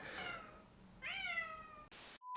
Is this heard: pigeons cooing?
no